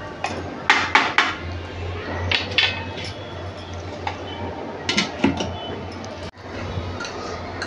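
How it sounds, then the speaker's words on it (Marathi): A lid set down on a cooking pot of coconut rice gives a few sharp metallic clinks and rattles up close, followed by scattered lighter taps and a clunk in a quiet kitchen. "आता ह्याच्यावर झाकण ठेवते"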